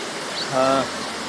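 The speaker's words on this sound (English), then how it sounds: "I've come to the top of the waterfalls." A waterfall on the Isle of Mull, heard from the top of the falls: a steady, broad rushing roar of water with no break, fairly loud and close, with a brief faint tonal sound in the middle.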